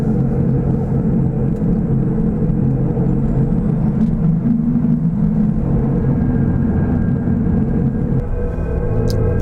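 A Tesla's custom external sound effect called Plasma Pulse, a steady, loud, droning synthetic hum with low rumbling layers that holds evenly throughout, with no voices.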